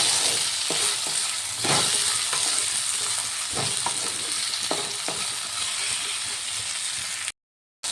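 Flat beans and tomato pieces with salt fry in a pan, giving a continuous close sizzle broken by repeated scraping stirs, then a short drop to silence just before the end.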